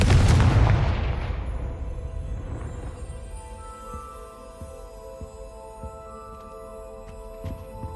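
A Confringo blasting spell goes off in Hogwarts Legacy, a loud booming explosion with a long, fading rumble, followed by faint scattered ticks and a soft ambient tone.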